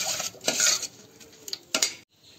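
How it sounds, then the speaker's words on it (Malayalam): A utensil clinks and scrapes against a bowl in a few quick bursts as eggless semolina cake batter is mixed, close by and with no voices. "നല്ലപോലെ മിക്സ് ചെയ്യണം. ഇത് കട്ട പിടിക്കാൻ പാടില്ല"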